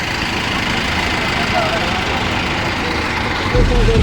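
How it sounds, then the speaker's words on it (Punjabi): A tractor engine idles steadily nearby with a low, even rumble, and a deeper thump comes in near the end. "ਇਹ ਟਰੈਕਟਰ ਹੈ ਜੀ"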